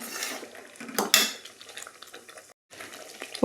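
Tomato thokku cooking in a pan is stirred with a spoon, giving a few faint metallic clinks and soft scrapes against the pan in an otherwise quiet kitchen with no voices.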